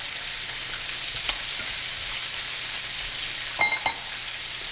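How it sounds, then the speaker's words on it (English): Blanched carrots and salmon sizzle in a hot pan, a steady close hiss of frying with a couple of faint clicks from the pan. "to the pan, I'm going to add the blanched carrots, and these can just pan roast while the salmon is cooking"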